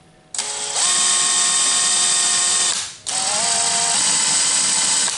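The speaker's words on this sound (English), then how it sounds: "take a drill, a regular drill, tighten it down on the cable." A power drill spins a seat-adjuster cable on a Lincoln Continental seat frame, whirring at high speed in two sustained bursts, the second after a short stop, loud and close with a steady mechanical whine.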